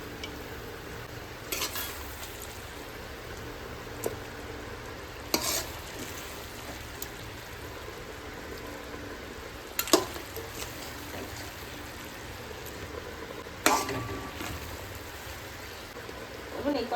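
Goat meat fries and gets stirred, a steady low sizzle with several sharp scraping clinks of a spoon against the pot at intervals, close by; a voice speaks faintly now and then.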